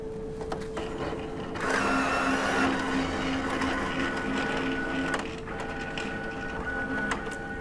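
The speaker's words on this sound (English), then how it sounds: "The printer will now pull the adhesive card in and run it through the length of the printer and up into the vertical option." An Entrust Datacard CR805/CR825/CE875 card printer draws an adhesive cleaning card through its length and up into the vertical option, producing a steady mechanical whir with a louder motorized stretch in the middle, close and alone.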